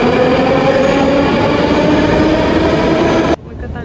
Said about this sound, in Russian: Мы катались по метро